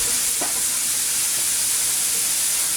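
Raw chicken fries in a hot pan with a loud, close, continuous sizzle and hiss that holds steady throughout, with no talk over it.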